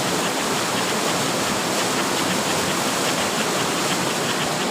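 A waterfall on a trekking route, one of a pair of falls, roars as a loud, steady, unbroken wash of water close by with no voices.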